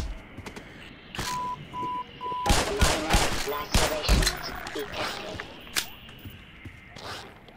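Magnum revolver shots ring out in the video game Black Mesa: Xen, a handful of loud, sharp reports spaced irregularly, mixed with other game effects, with no one talking.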